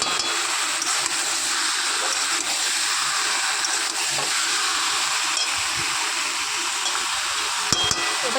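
Chicken for biryani sautés in a hot pan, producing a loud, steady hissing sizzle like escaping steam, close and continuous, with a few faint knocks near the end.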